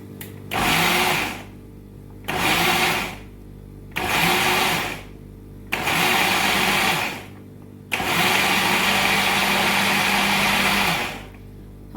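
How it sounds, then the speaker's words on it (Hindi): A mixer grinder blending chutney whirs loudly in five bursts, short pulses followed by one longer run, with brief pauses of quiet between them. "ये सब चीज़ें हम इसमें मिक्सी में डालेंगे।"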